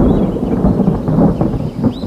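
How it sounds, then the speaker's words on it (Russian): In a cartoon forest under a cloudless sky, thunder rumbles loud and continuous, a deep rolling roar that swells and eases without break. "На небе не облачко, а громыхает, как в бурю"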